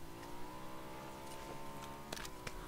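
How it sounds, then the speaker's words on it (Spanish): Motorcycle engine in the video game PUBG, a steady droning hum with a harmonic whine that holds throughout, with a couple of brief sharp clicks near the end and no talking. "Eso es una moto arriba"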